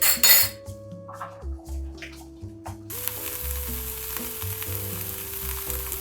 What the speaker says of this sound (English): We will saute this for about 3 to 5 minutes until the onions become translucent